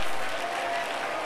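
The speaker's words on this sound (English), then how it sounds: "Lift your voice, shake your head, clap your hands, stomp your foot." A church congregation claps hands together during an apostolic preaching service, giving dense, continuous, loud applause-like clapping with a bright crowd wash.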